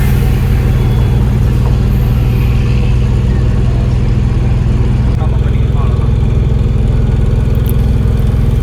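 A mini truck drives on the Bangalore–Chennai bypass near Chennai, its engine a steady loud drone with road rumble throughout, close and continuous.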